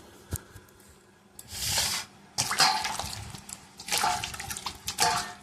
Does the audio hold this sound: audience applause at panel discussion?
no